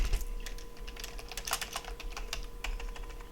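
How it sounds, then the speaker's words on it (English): Rapid typing on a computer keyboard, a dense run of light key clicks with a steady hum underneath, close and fairly quiet, no talking. "let me just type it in there again"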